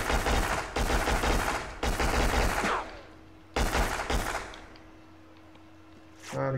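Machine gun fire from the PS2 shooter Black: several loud, rapid bursts of automatic fire in quick succession, with a short lull before the last burst and a lingering hum afterward; no one speaks.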